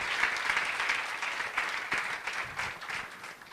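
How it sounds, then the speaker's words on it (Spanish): Steady applause from a church congregation, a dense wash of clapping that holds at an even level for a few seconds. "Dale un fuerte aplauso al Rey."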